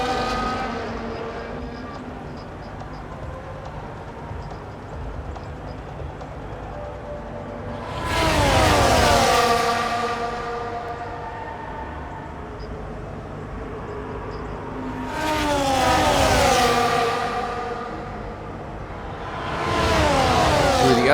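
Formula 1 cars in the F1 24 game at the Japanese Grand Prix roar past in three loud, sweeping passes with rising and falling engine whine, separated by quieter stretches of distant engine noise.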